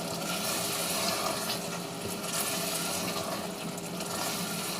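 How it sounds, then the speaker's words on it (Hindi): Water pours steadily into a pot of cooking black chickpea curry, a continuous broadband splashing rush without breaks, fairly close, with no talking. "मैं थोड़ा सा पानी डाल लूँगी कि क्योंकि थोड़ी सी शोरा बन जाए।"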